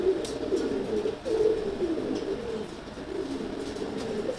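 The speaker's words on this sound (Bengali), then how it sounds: "আর এটা হচ্ছে হুমা কবুতর মাদি, ওই একে বড় করছে খাওয়া।" Huma pigeons, a female and her one-month-old chick, cooing in a low continuous rolling murmur close by, with no talk.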